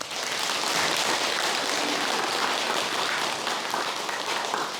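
A room full of people clapping in steady, dense applause at a talk, loud and continuous throughout.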